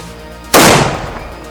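A single sharp gunshot blast from a hook gun at an artillery demonstration, loud and close, with a broad crack that decays into a short rumbling echo.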